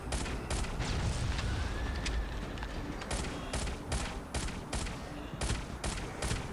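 Pistol fire in the mobile shooter Shadow Gun Legends comes as sharp, repeated cracks in uneven bursts over a dense, noisy game backdrop of rumbling battle sounds.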